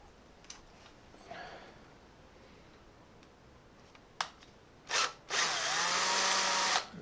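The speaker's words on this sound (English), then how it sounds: "I'm going to drill them out first." A few faint ticks, then a power drill whirs in two bursts drilling out holes in a number plate bracket on a 1978 motorcycle, the second a sustained, close, loud drilling run.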